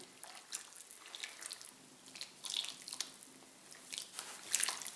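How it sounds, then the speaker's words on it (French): Water is stirred into chestnut wood ash in a container to make a homemade detergent. Soft, close wet squishes and drips repeat at a quiet level. "Donc je vais y mélanger de l'eau."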